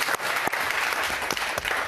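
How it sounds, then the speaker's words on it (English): Studio audience applauding guests on a breakfast television show, a dense steady wash of clapping throughout, fairly loud and unbroken with no voices over it. "Round of applause."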